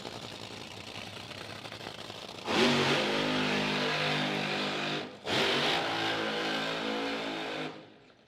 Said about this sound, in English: Doug Kalitta and Josh Hart rolling into the burnout box